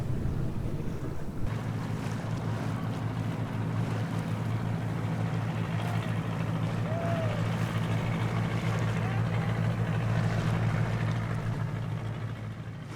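A sailboat motors along against a light current off Devon in southwest England, a steady low engine drone under wind buffeting on the microphone and the wash of water, continuous and fairly close.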